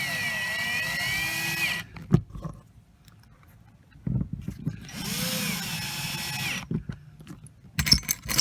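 A power drill drives screws into an RV skylight, two close whirring runs that slow as each screw snugs down, with clicks and handling noise between them and a short burst at the end.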